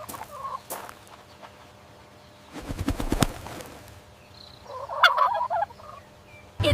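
A turkey gobbles in rapid, rattling bursts, one strong outburst in the middle and another later, with quieter clucking between them and no voices.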